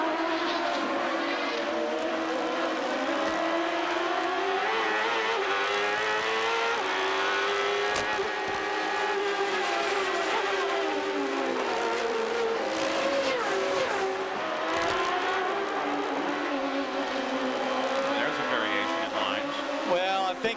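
Onboard a CART race car, the engine roars continuously and loudly, its pitch climbing and falling as the car accelerates and brakes, with faint radio chatter mixed under the steady drone.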